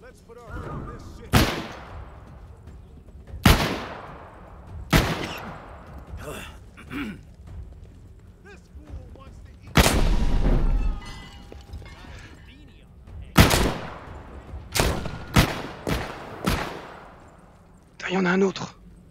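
Single loud gunshots in The Walking Dead VR video game, about a dozen sharp cracks fired at irregular intervals with quieter gaps between, someone talking at times.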